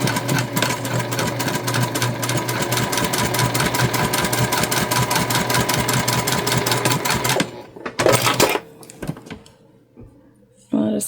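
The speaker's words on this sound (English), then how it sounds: "I'm just stitching about 1/8 of an inch away from the side." A sewing machine stitching fabric runs in a fast, steady mechanical patter for about seven seconds, then stops, followed by a few short clunks and handling noises.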